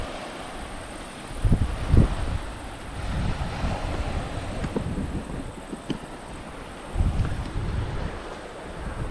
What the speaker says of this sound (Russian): Огромные волны, друзья.